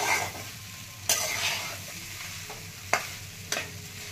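Leftover rice with curry leaves being stir-fried in a pan, a steady close sizzle with several distinct spoon scrapes and taps against the pan, no voices.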